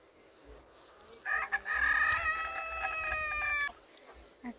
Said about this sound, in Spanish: Aquí están sus gallinas.